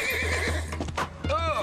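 A cartoon horse gives a loud, wavering whinny over a low steady tone, with clip-clop hooves and voices mixed in, close and brief.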